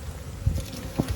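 Aggravated honey bees buzz close around a beekeeper's head during a summer dearth, a faint steady insect drone with a couple of louder swells as bees fly past.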